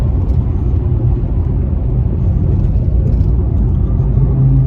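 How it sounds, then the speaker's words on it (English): Tires of a Mustang rolling along a rural road, a steady loud low roar and rumble throughout, heard from inside the moving car with no talking. "And these are some noisy tires."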